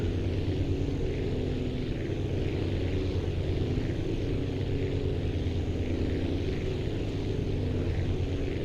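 A steady, droning aircraft engine hum with a constant propeller-like buzz in the video game Aviassembly, the throttle holding at an even, unchanging level from start to finish with no voices.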